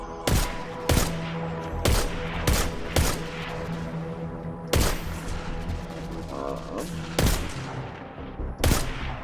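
Hand cannon gunfire in Destiny 2, Curse of Osiris: loud, sharp single shots fired at an irregular pace, roughly eight over nine seconds, over game music and ambient effects.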